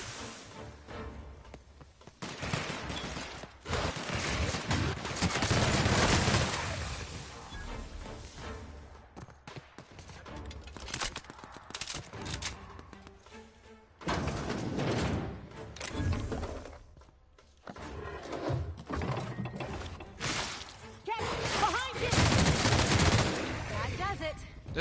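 Bursts of rapid video game gunfire, loud and close, come in repeated volleys separated by short lulls, with machine-gun-like clusters of shots.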